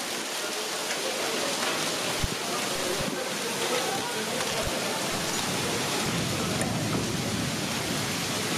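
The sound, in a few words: hailstorm with rain, wind and thunder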